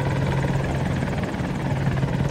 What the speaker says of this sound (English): Oh, there's a heli.